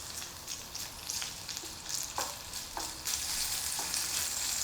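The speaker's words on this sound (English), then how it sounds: "And that will sizzle away for a few seconds." Chopped streaky bacon sizzling and crackling in a pan, a steady frying hiss with scattered pops and stirring scrapes that grows louder toward the end.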